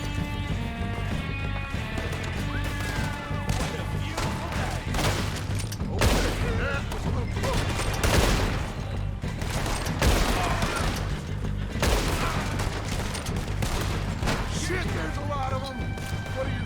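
Gunfight in the video game Red Dead Redemption 2, with rapid bursts of rifle and pistol shots cracking repeatedly at varying distances, loud and dense throughout, while a player talks over the exchange.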